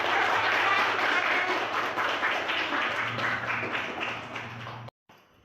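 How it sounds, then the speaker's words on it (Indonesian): Students in a classroom clap for the first, second and third place winners of an accounting lesson activity, a fairly loud burst of applause that tapers slightly before cutting off abruptly. "Tepuk tangan"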